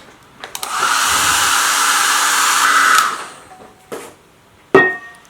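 A hair dryer drying fresh paint on a tin can roars on close and loud for about two and a half seconds and then cuts off, followed by a couple of sharp knocks and clatters.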